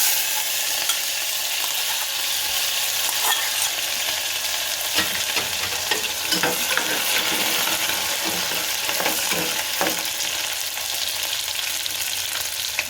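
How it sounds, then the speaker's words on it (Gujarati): Chilies, cinnamon and cloves sizzle in hot oil for a khichdi tempering, a steady close crackling fry with scattered pops throughout and no talk. "આ મરચાં નાખશું, આ તજ અને આ લવિંગ અને તીખા."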